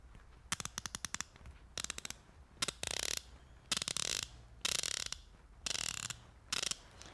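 Ratchet wrenches from Harbor Freight Pittsburgh, Snap-On and Gearwrench clicking close to a table microphone, in bursts of sharp rapid clicks, some quick and separate, others long buzzing runs, with short pauses between.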